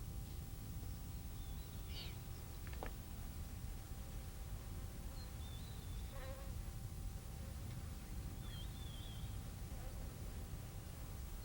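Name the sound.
flies buzzing around lions in the savanna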